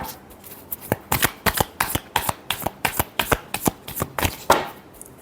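A deck of tarot cards is shuffled by hand in a quiet room, a quick run of about a dozen crisp riffling bursts close to the listener, with no talk.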